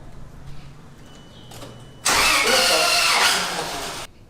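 A truck engine cranks and catches, jumping to a loud, rough running roar that holds for about two seconds and then cuts off abruptly, preceded by quieter clicks and handling.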